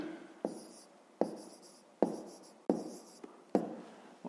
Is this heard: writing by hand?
yes